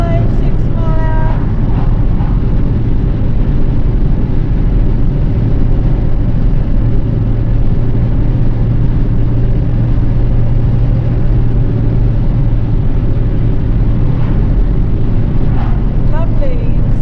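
An Austin Allegro on new Blockley tyres cruises along a main road at about 55 to 60 mph, with a steady, loud interior drone of engine and road roar that runs the whole way through.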